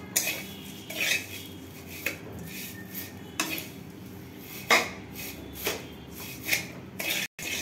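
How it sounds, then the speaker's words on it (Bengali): A metal spatula breaking up roasted vermicelli in ghee in a pan: repeated close scrapes and clinks against the metal at an uneven rhythm, over a soft background hiss with no speech. "সিমাইটা একটু বড় বড় রয়ে গেছে, তো আমি খুন্তির সাহায্যে একটু ছোট করে নিচ্ছি,"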